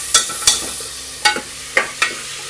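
Washed moong dal going into a hot pan for a palak dal curry, giving several sharp, close sizzling clatters spaced apart, followed by brief stirring scrapes.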